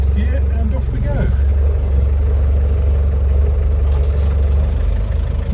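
Restored 1988 Land Rover 110 soft top with a 200TDi diesel engine running with a loud, close, steady low rumble, then pulling away as it drives off, under a man's speech.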